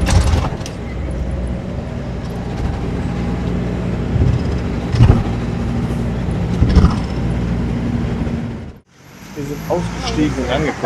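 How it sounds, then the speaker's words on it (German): A tour bus pulls away through a harbour area in Rovinj, its engine rumbling steadily and loudly close by before the sound cuts off abruptly, with voices talking over it. "Da fährt unser Bus wieder dahin."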